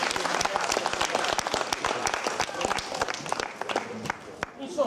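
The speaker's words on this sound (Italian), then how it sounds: "Bravi ragazzi, un applauso." Loud, dense applause from an audience of children after a performance, sustained steadily throughout with sharp overlapping claps and no pauses.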